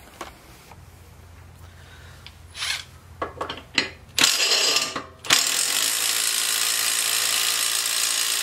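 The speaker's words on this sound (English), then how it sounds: "So I'm gonna pull this blade off" Ratchet wrench loosening the blade bolt on a Troy Bilt TB200 lawn mower: scattered clicking bursts, then a sustained ratcheting run to the end, close and fairly quiet.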